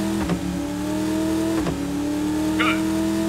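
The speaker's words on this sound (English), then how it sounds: "step on the gas and get rolling" A car engine hums steadily and revs, with a couple of sharp transients and a brief high squeal, as a car pulls away in the PS2 game True Crime: New York City.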